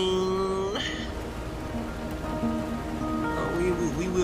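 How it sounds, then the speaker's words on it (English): Steady rain patters continuously throughout the video game Road 96, with melodic tones and a soft voice-like hum drifting over the downpour. "Rain won't quit, will it, young blood?"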